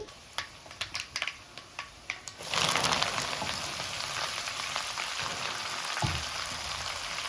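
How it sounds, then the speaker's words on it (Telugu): Chopped drumstick (moringa) leaves dropped into hot oil in a pan, a few light taps followed by a sudden, steady hiss of frying that continues to the end. "చేసి పెట్టుకున్న మునగాకుని కట్ చేసి పెట్టుకున్నాం కదా ఆకు ఇప్పుడు దాంట్లో వేసేసుకుందామండి"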